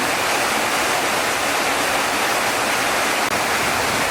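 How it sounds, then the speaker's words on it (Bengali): Heavy rain pours steadily over a village courtyard where water is pooling, a dense, constant close roar of falling water with no pauses and no voices. "আপনারা দেখতে পারতেছেন আমাদের ভিডিওর ভিতরে প্রচুর বৃষ্টি নামছে।"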